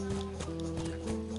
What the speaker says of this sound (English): Well, this horse runs hella slow.